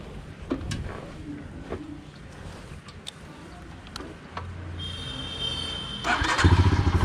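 A 2020 Royal Enfield Himalayan BS6 motorcycle rides off: a few mechanical clicks and clunks come first, then the engine rumbles up loudly near the end.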